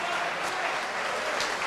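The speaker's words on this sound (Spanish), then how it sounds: "Bajan los aplausos." Applause at the end of a boxing match in an arena, a dense, steady clapping from the crowd throughout the short moment.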